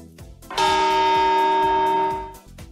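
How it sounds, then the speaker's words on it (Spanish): A single church bell strikes one loud, ringing chime that sustains with a bright metallic tone and slowly fades, heard alone with no talk. "vamos con la novena campanada"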